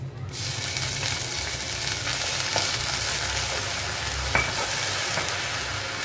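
Garlic paste fries over low heat in a pan of naga chili pickle, giving a constant dense sizzle with faint stirring scrapes and a couple of light clicks.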